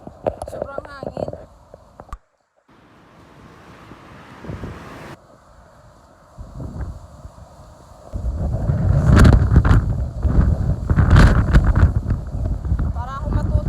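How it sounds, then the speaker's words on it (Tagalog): Strong wind gusts outdoors while someone walks, starting with someone talking, dropping to a lull, then swelling into a loud, rough roar of wind buffeting the microphone. "Sobrang hangin."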